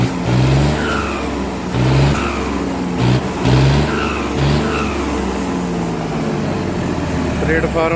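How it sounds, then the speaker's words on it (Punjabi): A Mahindra 275 DI tractor engine revs in repeated bursts, each surge bringing a rising whistle over the heavy mid-pitched drone. It is loud and close, with people talking in the background. "ਸੀਟੀਆਂ ਮਾਰ ਰਿਹਾ ਟਰੈਕਟਰ"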